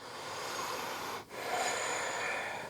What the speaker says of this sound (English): Keep breathing.